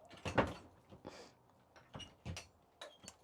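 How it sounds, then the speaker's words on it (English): A sliding toilet door in a 2022 Buccaneer Bermuda caravan closes with a few soft knocks and a short rolling slide, quiet and close. "This door here, which goes onto the toilet, this will close across"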